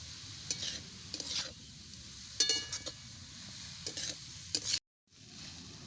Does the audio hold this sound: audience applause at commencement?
no